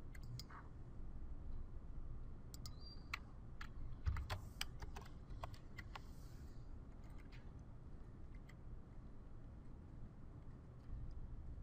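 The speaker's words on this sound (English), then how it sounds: "If you know the ID of the application that you're looking for, you can also type that in directly." An application ID is typed on a computer keyboard: a short burst of quick, sharp key clicks up close, then fewer scattered taps, over a constant low room hum with no talking.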